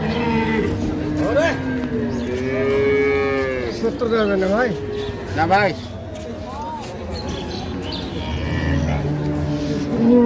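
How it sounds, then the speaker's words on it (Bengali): Several dairy cows and calves moo loudly in long, drawn-out calls, one after another, over a busy cattle-market crowd murmur with people talking nearby in Dinajpur, Bangladesh. "গাভী বাছুর আমরা দেখছিলাম এখানে"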